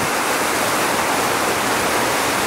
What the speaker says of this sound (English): Nothing like rapids like this.